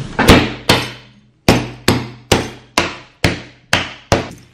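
Frying pan used in place of a hammer, struck eight times in a roughly even rhythm, each a sharp loud clang with a short ringing decay, close by and without talking.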